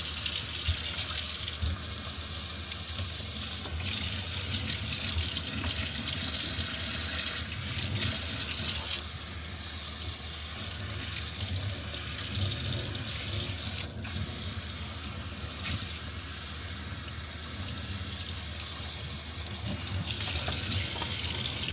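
Tap water runs steadily while rinsing a braided scalp and braids on wash day, a continuous rushing splash with small shifts in flow and no talking.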